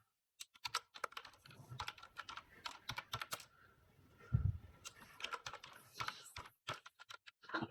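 Quick bursts of keystrokes on a computer keyboard, close and fairly quiet, with irregular pauses between runs of clicks.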